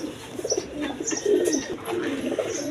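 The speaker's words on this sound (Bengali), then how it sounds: "এখানে এক পেয়ার কালদম কবুতর আছে দেখেন ইন্ডিয়ান কালদম" Indian Kaldom pigeons, a big-sized pair, coo in soft, repeated low murmurs close by, with faint chirps over a steady room background.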